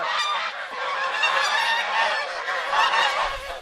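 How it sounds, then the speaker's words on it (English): Loud, steady honking from many geese at once, a dense chorus of overlapping calls that never lets up. "let's hope the geese will be quiet very soon."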